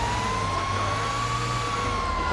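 A fire truck driving in the first-person GTA 5 game gives off a steady engine rumble under a continuous, slowly gliding siren tone, loud and close throughout.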